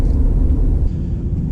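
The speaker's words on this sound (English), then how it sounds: "Road noise is quite loud." Road noise from large 35-inch tires on a leveled 2012 GMC Sierra WT, a loud steady low rumble and drone heard from inside the cab.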